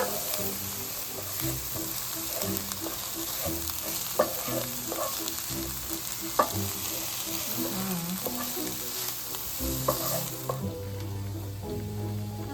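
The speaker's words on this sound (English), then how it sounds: "Keep stirring that up until your onions cook down on about moderate heat" Onions cooking down over moderate heat in a pan with dried thyme, a continuous close sizzle with repeated scraping stirs and a couple of sharp clinks from the utensil, no voices.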